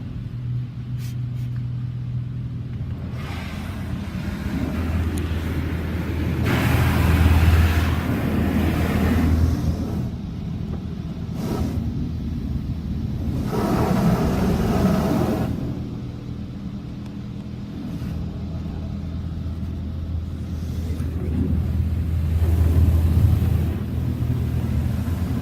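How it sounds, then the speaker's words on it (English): A PDQ LaserWash 4000 touch-free car wash at a Petro Canada Super Wash in Keswick doing its high-power rinse: a low hissing roar of water jets that swells and fades as the spray passes, heard from inside the car. "Now we're getting the high power rinse."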